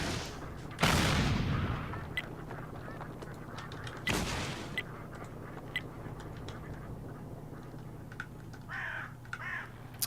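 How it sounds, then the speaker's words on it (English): Artillery shells firing in World of Tanks, two sharp loud blasts a few seconds apart with fading rumble and scattered faint cracks, against quiet background noise. "they're still trying to hit him with the artillery shells"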